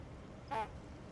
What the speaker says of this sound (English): There's ducks everywhere in this republic.